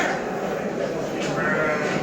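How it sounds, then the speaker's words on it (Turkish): Sheep and goats bleat at a crowded Göksun livestock market, several nearby calls rising over a steady murmur of voices and market bustle. "Burada biraz yine kısır koyun var, keçi var."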